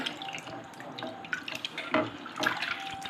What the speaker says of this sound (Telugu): ఇలా కడుక్కుంటే మనకి ఏదైనా డస్ట్ ఉన్నా కూడా పోతుంది, మంచిగా శుభ్రంగా ఉంటుందని ఇలా క్లీన్ చేసుకుంటానండి